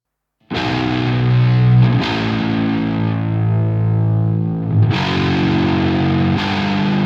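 An 8-string electric guitar through a Marshall amp sim with delay rings out heavy, distorted sustained chords, close and loud, with a few restruck chords and trailing echoes and no voices.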